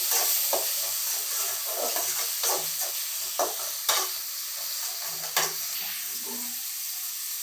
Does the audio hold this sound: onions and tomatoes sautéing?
yes